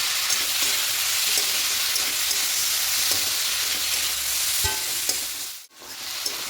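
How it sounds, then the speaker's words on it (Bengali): Masoor dal sautés in a pan with a constant close sizzle and occasional stirring scrapes, a sharp knock near the end followed by a brief drop and return of the frying hiss. "সব কিছু একসঙ্গে একটু মিনিট দু মিনিট একটু কষিয়ে দেবো"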